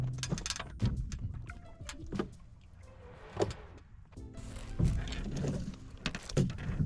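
The boom of a sailing dinghy knocking in a flat calm: irregular soft knocks and creaks of rigging and hull come at scattered intervals over a faint, quiet background.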